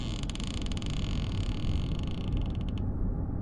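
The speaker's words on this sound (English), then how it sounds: "The plank beneath me creaked." A wooden plank in a horror video game creaks underfoot in a long, strained groan set against a steady low ambient rumble, with no voices.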